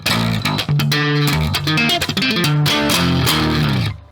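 A distorted electric guitar plays a choppy riff of short, punchy chords and notes, loud and close, with brief stops between phrases.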